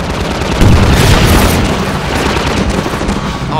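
Rocket launcher fire and explosions in the video game Half-Life 2, a loud, sustained barrage of booms and blasts that rumble continuously for several seconds.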